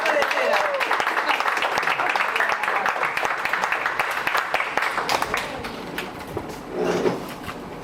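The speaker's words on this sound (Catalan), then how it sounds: "un fort aplaudiment, Carlota de Cera" Audience at a music school recital applauds a performer, a steady crackle of many hands clapping that fades out toward the end as a voice begins speaking.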